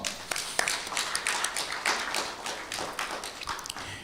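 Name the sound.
audience applause welcoming roundtable members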